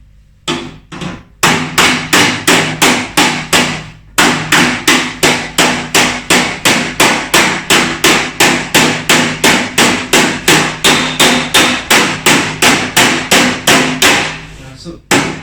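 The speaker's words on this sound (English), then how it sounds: "It's mainly the weight of the hammer doing the work." A hammer strikes repeatedly and heavily at a steady, even rhythm, each blow loud and close. A few spaced hits come first, then a long unbroken run of regular strikes.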